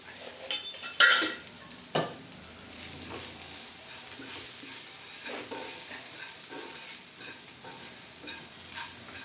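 Masala spices, chilli powder and coriander powder, roast in a pan for an omelette: quiet scraping stirs with a few sharper clinks near the start over a faint sizzle, no voices.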